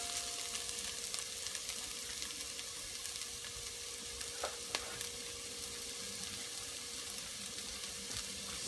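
Corned beef and potatoes frying in a pan, a faint, even sizzle hissing steadily throughout with one or two light clicks near the middle.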